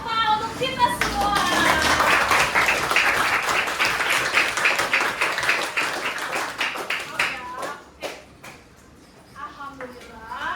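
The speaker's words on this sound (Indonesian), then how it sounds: "Kita tepuk tangan untuk kita semua" A primary school class of fifth graders claps together in a classroom, a dense burst of hand claps that runs steadily for about seven seconds, then thins into a few scattered claps, with children's voices rising over and after it.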